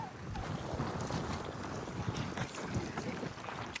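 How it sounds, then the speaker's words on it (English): Wind gusts across a fishing boat out on the water, a steady, close, rumbling roar that buffets continuously with no break. "Wind. Fucking wind. Just everywhere."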